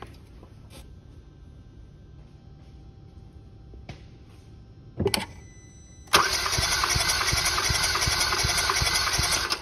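Cranking of a Kia Soul engine during a compression test on cylinder four: quiet clicks and a short burst, then loud steady rhythmic cranking that begins abruptly and continues to the end.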